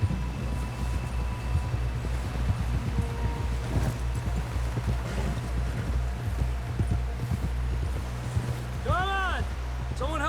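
Horse galloping in the video game Red Dead Redemption 2, rapid rhythmic hoofbeats running steadily under a low rumbling background, with a brief whinny near the end.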